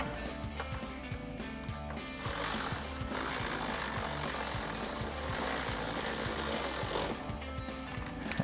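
A ratchet socket wrench tightens a 13 mm top bolt on a drop side step bar bracket on a Jeep Gladiator JT, giving fast, regular mechanical clicking followed by a steadier grinding rattle, fairly faint and with no talking.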